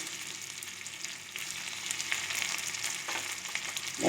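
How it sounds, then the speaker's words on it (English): Mustard seeds, chopped onion and curry leaves fry in a pan on low flame, giving a quiet, continuous close sizzle with light crackles and no talking. "The onions, curry leaves, everything is nicely fried."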